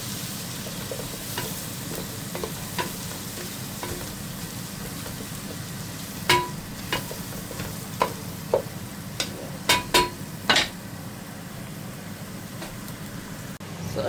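Onions sautéing in a pan for tuna pasta give a steady low sizzle with soft stirring scrapes, and a few sharp clinks of a utensil against the pan stand out near the end.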